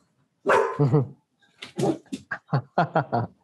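A pet dog indoors barks in a rapid string of sharp, close barks: a pair, a short pause, then a quicker run of several more.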